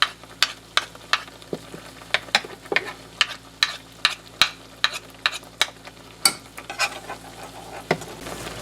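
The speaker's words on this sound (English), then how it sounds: "I want to stir it around so that tomato puree comes off and liquefies." A spoon stirring rice with tomato puree in a hot pan, making repeated quick scraping strokes over a low, continuous sizzle, close and steady without talk.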